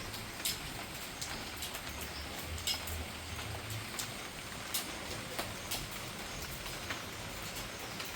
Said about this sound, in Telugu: మీరు ఎంజాయ్ చేస్తారని ఒరిజినల్ వర్షం సౌండ్ అలానే పెట్టేశానండి